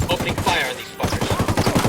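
Rapid machine-gun bursts in a firefight in the video game Ghost Recon Wildlands, a fast, steady rattle of close, loud shots that pauses briefly, then resumes.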